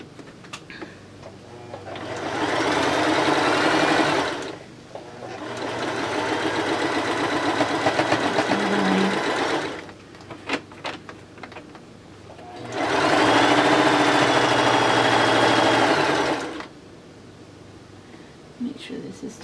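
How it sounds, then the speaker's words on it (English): Sewing machine stitching quilt pieces for a Crown of Thorns quilt block, running in three steady bursts of a few seconds each with short pauses between, close and fairly loud. "I'm going to go ahead and start sewing it"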